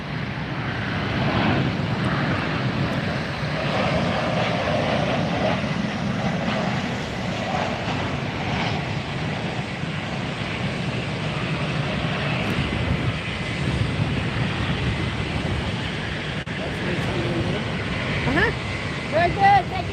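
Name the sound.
Douglas DC-3 propeller airplane taking off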